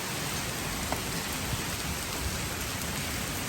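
Hail falls on a roof during an Oklahoma storm, a dense, even patter with a few sharper ticks of individual stones and no one speaking.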